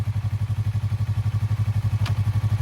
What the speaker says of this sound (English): pull the clutch in and put the bike into first gear